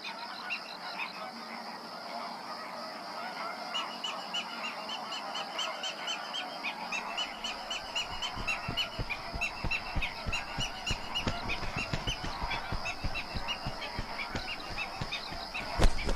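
A large flock of greater flamingos in Andalusia honks and chatters continuously, many overlapping nasal calls forming a busy, loud chorus that grows denser as it goes on.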